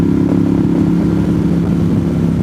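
Motorcycle ridden along GA60 from Blue Ridge to Suches on a North Georgia mountain road, a loud, steady engine drone with rushing wind, close and continuous without speech.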